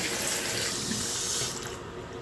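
Water runs from a sink faucet with leaking valves in a steady, close splashing stream that eases off slightly toward the end, with no voices.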